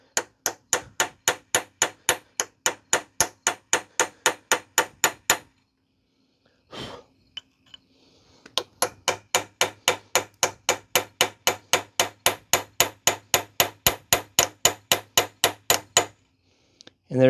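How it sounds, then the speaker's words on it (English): A wooden hammer strikes a Dana 30 steering knuckle ball joint between the race seats in steady, evenly paced blows, two long runs of sharp close knocks with a short pause between. "I'm hitting it between where the races sit, and again, I'm using the end of a wooden hammer"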